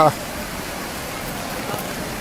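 Heavy rain pours during flooding in Taunggyi, a steady, dense hiss of water that holds at an even level throughout after a brief louder knock at the very start.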